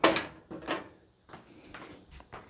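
The side panel of a Fractal Design North PC case being pulled off, a few separate scraping and sliding thuds from the panel, close and moderately loud.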